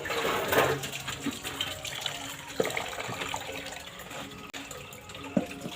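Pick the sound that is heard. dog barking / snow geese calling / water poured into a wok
water poured into a wok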